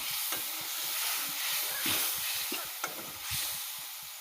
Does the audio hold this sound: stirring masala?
yes